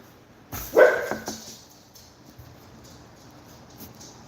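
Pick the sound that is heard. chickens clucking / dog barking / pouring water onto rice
dog barking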